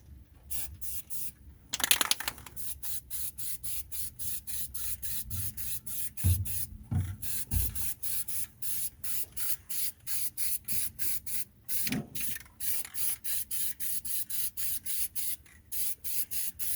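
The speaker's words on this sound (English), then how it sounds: "I'm gonna use this to try to kind of keep any overspray off of where I don't want paint at" Short bursts from an aerosol spray can repeat in a quick, steady rhythm while a car engine bay near the manifolds is spray painted outdoors, with a few brief knocks and handling noises between sprays.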